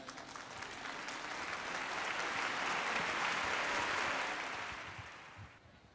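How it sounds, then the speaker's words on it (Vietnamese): A round of applause from a church concert audience, building from a soft start to a full, dense wash of clapping and then tapering off, heard at moderate distance with no speech. "chúng ta tạ ơn Chúa và cảm ơn nhau bằng một tràng pháo tay."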